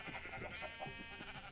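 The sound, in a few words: sheep bleating in Minecraft video game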